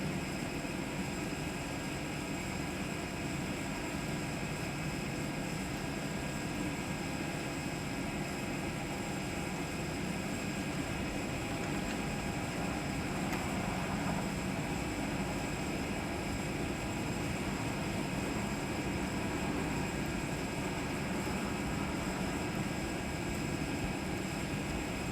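An Airbus A321 takes off in a flight simulator, giving a steady loud broadband engine roar that holds at an even level throughout with no voices.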